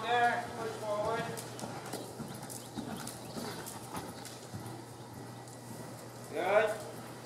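A horse cantering in a training session, soft rhythmic hoofbeats on the ground heard faintly under a trainer giving spoken instructions, with the hooves rising briefly louder near the end.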